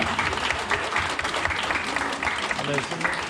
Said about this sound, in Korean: 우리 한번 준비하는 동안 예, 응원의 박수 부탁드리도록 하겠습니다.